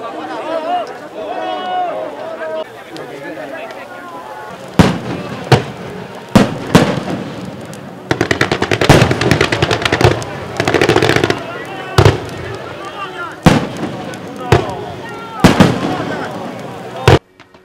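Fireworks burst on the shore at a water lantern release festival by the sea, with sharp repeated explosions and crackling volleys in uneven bursts, loud and fairly near, over a crowd murmuring and cheering.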